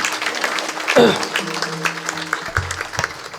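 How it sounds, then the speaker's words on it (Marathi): A kirtan audience breaks into a short, hearty round of clapping that swells around the first second and fades, with a voice talking over the applause and live sound-system tones behind. "त्यांच्यासाठी एकदा जोरदार टाळ्या झाल्या पाहिजे"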